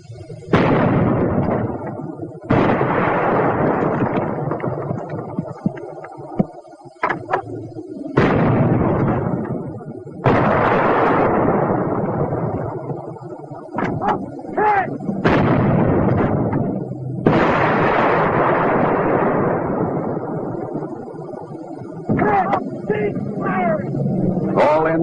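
Heavy WWII-era artillery fire striking concrete emplacements: a series of loud, booming blasts with long rumbling decays, about seven big bursts spaced irregularly across the stretch, with a few smaller sharp pops between them.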